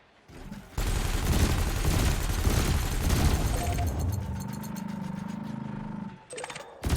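Ship cannon and laser fire in the space game Elite Dangerous: dense rapid rattling shots for about three seconds, then a steady humming laser beam droning until it cuts out, with a short burst at the end.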